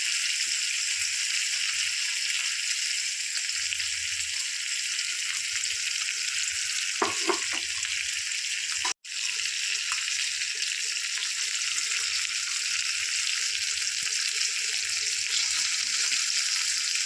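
Fish pieces frying in a pan, a steady, close hiss of sizzling oil with a few faint clinks and a brief break partway through, no talking.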